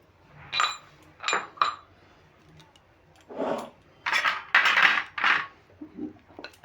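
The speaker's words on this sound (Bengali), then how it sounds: "ভালো করে মিশিয়ে নিচ্ছি" A spoon clinks and scrapes against a bowl while pitha batter with ground fennel is mixed, giving irregular bursts of close metallic knocks and scraping strokes with short pauses between them.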